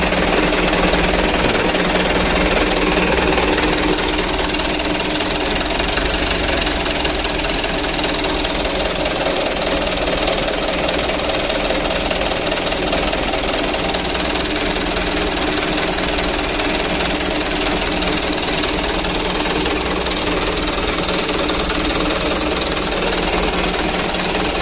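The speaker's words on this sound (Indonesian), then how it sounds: "Untuk hidupnya sudah bagus dan juga untuk langsamnya sudah mendingan, tidak begitu parah." A Mitsubishi Canter diesel truck engine idles after a plunger replacement, a loud, steady, close-up knocking rumble that runs unbroken throughout.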